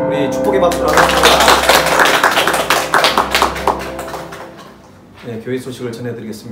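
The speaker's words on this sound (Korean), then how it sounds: "우리 축복의 박수를 하겠습니다." A church congregation at a Sunday worship service claps together in blessing applause, a dense run of loud handclaps over music that fades after about four seconds before a quieter phrase follows.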